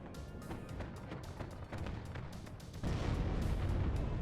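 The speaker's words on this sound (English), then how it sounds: "Some artillery in for Bulba as well." Artillery fire in the WARNO strategy video game, with a dense run of distant booms and crackling impacts that swell louder near the end.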